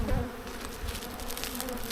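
Honeybees buzzing around an opened hive during a first inspection after unpacking, a steady close droning hum that fills the whole stretch, no voices.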